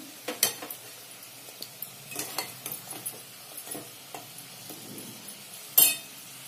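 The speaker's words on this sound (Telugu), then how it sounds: "అప్పటి నుంచి వేగుతూనే ఉంది" Chicken pieces fry on a stove set to low heat, giving a steady faint sizzle broken by scraping stirs and light clinks of a utensil against the pan, with a sharper clatter near the end.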